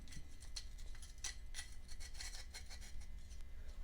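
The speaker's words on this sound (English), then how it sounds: "I'll take both snap rings out and I use a cylinder hone. And I stick it in here." A cylinder hone works inside the bore of a Snapper mower spindle housing, giving a steady, close scraping rasp with rhythmic strokes over a low motor hum.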